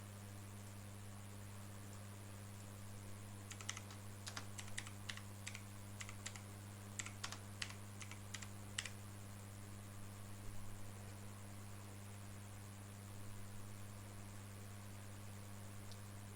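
Quick bursts of typing on a computer keyboard, faint light key clicks in an uneven patter for several seconds over a steady electrical hum, then fading to a few scattered taps.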